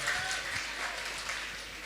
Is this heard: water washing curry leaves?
no